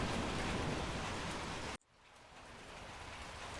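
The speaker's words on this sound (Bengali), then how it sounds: "বৃষ্টি থামছেই না" Rain falling steadily as a dense, even hiss for a couple of seconds, then cutting off abruptly to a much quieter wash that slowly swells again.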